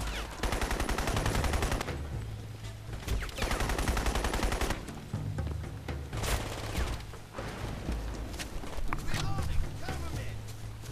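Bursts of rapid gunfire crackle in repeated volleys in the video game Crysis Warhead, loud and close, with short pauses between, amid game sound effects and a speaking voice.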